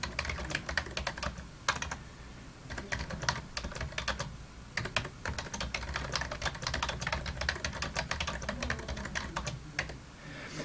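Rapid, steady clicking of a computer keyboard goes on throughout as a math word problem is typed out, close and continuous with no talking.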